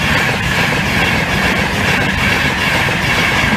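Train passes at a station, a loud, steady rumble and rushing roar of wheels on rail with no pauses, filling the whole stretch.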